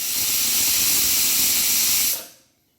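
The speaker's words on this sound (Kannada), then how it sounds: "ಲಿಡ್ನ ಕ್ಲೋಸ್ ಮಾಡಿ ಎರಡು ವಿಷಲ್ ಬರೆಸ್ಕೊಳ್ತೀನಿ" Pressure cooker whistle blowing off steam while dal cooks, a loud continuous hissing jet holding steady for about two seconds before cutting off abruptly into quiet.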